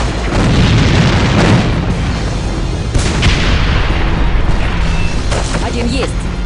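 A grenade explodes in the A.V.A online shooter as a loud, heavy boom amid continuous gunfire and battle noise, with further blasts and shots following.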